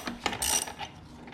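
A ratchet wrench loosening a motorcycle rear axle nut during chain slack adjustment, giving a few close, loud metallic clicks and a short burst of ratcheting, with no talking.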